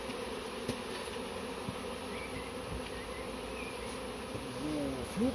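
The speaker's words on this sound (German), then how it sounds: "dass die Bienen sich jetzt hier ran orientieren am Flugloch" A honeybee swarm buzzes around a hive entrance outdoors, giving a steady, soft drone of many wings with occasional individual bees passing close.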